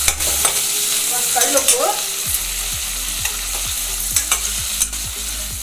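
Eggplant pieces sizzle loudly in a hot pan for a temple-style vangi bath, with a steady frying hiss, repeated scraping stirs and clinks of the spatula, and a single brief spoken word near the start.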